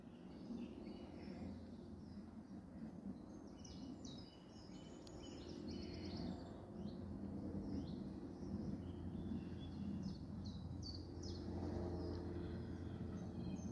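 Birds sing and chirp in quiet woodland, faint and somewhat distant, with a low steady drone in the background and no voices.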